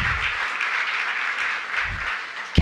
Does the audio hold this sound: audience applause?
yes